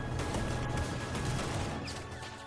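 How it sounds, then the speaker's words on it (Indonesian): A rapid burst of gunfire crackles amid chaotic noise, shots overlapping in a dense, loud volley that fades slightly at the end. "Tiba-tiba, Gayung melepaskan tembakan yang membuat kekacauan."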